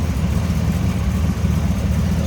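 A small block Chevrolet V8 with a turbo 400 automatic idles in a 1940 Chevrolet pickup street rod, a steady, close, smooth low rumble throughout with no talk.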